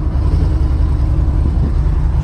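Cammed Ram 1500 Hemi V8 with a loud, steady low rumble that stays close and constant, with no clear rise in revs and no speech.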